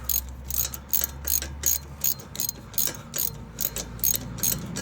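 A ratchet with an 8mm socket tightens a bolt on a 2013-2017 Ford Escape during passenger-side CV axle work, clicking in a steady series of about ten quick ratcheting strokes, close and clear with no talking.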